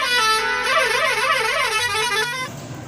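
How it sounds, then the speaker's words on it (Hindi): A bus horn blows in a long continuous honk with a wavering pitch, loud and close, in a village bus scene; it cuts off near the end, leaving a short quiet tail. "वहां पर दोबारा से हॉर्न बजता है कि गाड़ी अब रेडी है"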